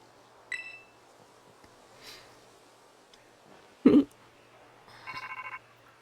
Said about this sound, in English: Who calls my Sprigatito phone?